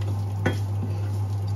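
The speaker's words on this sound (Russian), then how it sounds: "Жаренье." Food frying and being stirred in a pan during Asian soup cooking with mushrooms and sesame, a soft steady sizzle with a single clank of a utensil against the pan, close and quiet under a constant low hum.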